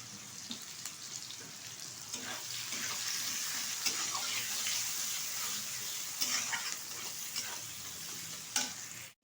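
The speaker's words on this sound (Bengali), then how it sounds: "পেঁয়াজটা হালকা করে ভেজে নেবো" Chopped onions fry lightly in a pan for a mutton and potato curry, making a continuous soft sizzle with scattered crackles and a sharper scrape near the end, heard up close without talk.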